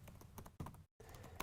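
Quick keystrokes on a computer keyboard, typing a short line of Python code, with soft irregular clicks in two bursts separated by a brief gap, close and quiet.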